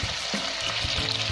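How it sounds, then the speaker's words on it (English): Cumin seeds and kalonji are stir-fried in a hot pan, producing a close, bright sizzle with a few quick scraping stirs over roughly a second and a half. "I'm going to stir fry them for 2 minutes."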